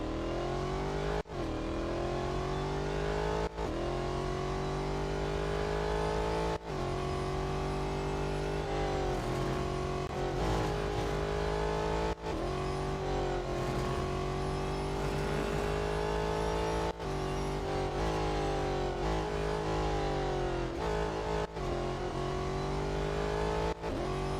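Race car engine in the Real Racing 3 video game at Spa-Francorchamps, a steady loud high-revving drone with brief dips at each gear shift, running continuously without speech.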